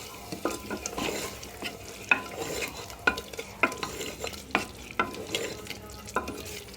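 Ginger-garlic paste and potatoes are stirred in a pan over a low sizzle, with a spatula scraping and tapping in a steady run of sharp knocks.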